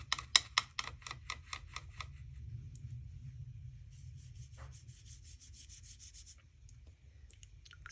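A watercolor brush is swished in a water jar and wiped during a graded wash: a quick run of rhythmic tapping strokes, then a soft, steady rubbing and swishing, faint and close, with no talk.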